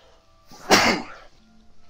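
A single sharp sneeze bursts out close by, brief and moderately loud, with quiet room sound before and after.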